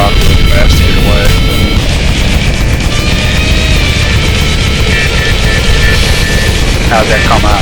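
Aircraft engine in the Second Life virtual world throttling up to a loud, sustained droning roar with shifting tonal whine, heard under continuous talk.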